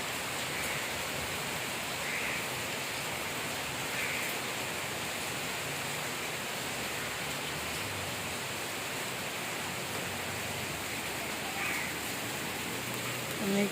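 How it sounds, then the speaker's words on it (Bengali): Heavy rain falls steadily outdoors on a morning while mynah birds perch nearby, a dense continuous hiss with no breaks, loud and even from start to finish. "বৃষ্টি হচ্ছে বাইরে"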